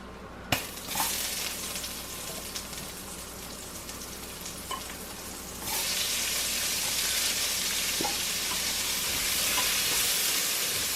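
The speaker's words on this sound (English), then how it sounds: "A couple of tablespoons of olive oil in my Dutch oven." A couple of tablespoons of olive oil sizzle in a Dutch oven, a steady close hiss that rises and thickens partway through after a few sharp clicks at the start, with no talking.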